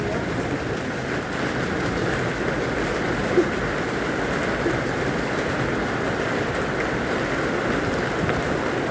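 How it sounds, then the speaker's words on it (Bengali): Rain falls steadily in Abha city, Saudi Arabia, a continuous even hiss of drops on surfaces, moderately loud and unchanging throughout, with no talk. "তো আমি দেখাচ্ছি এদিকে বৃষ্টিটা"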